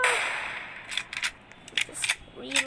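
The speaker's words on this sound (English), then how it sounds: "Reload this freaking rifle." Rifle shots fired in a video game while hunting Bigfoot: several sharp, loud cracks in irregular bursts, separated by short quiet gaps.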